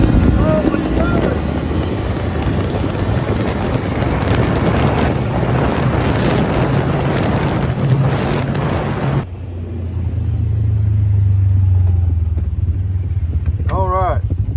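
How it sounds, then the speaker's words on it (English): Segway UT10 UTV with a Fugleman tune floored at full throttle, a loud sustained engine roar buried under heavy wind rush that drops away into a steady lower drone near the end. "We're about to floor it and see what we can get up to."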